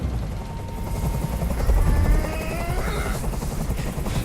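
Loud, steady rotor drone of a helicopter in Detroit: Become Human, a dense churning roar with rising whine tones layered over a low rumble throughout.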